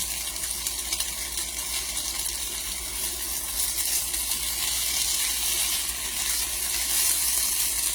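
Potatoes fry Russian style in a non-stick pan with ham, giving a steady, close hiss and crackle of sizzling oil that holds at an even level throughout, with no talking.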